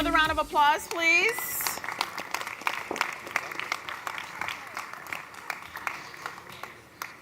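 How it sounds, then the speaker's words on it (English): Audience applause at a tech expo stage, a burst of claps following a short voice at the start, then scattered clapping that thins out over several seconds. "Another round of applause, please."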